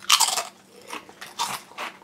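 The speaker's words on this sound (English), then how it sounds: "the double crunch, they're very, very crunchy" Loud, close crunching of thick, hard Walkers MAX KFC Zinger Double Crunch crisps, about four distinct bites and chews spread across two seconds, with no talk.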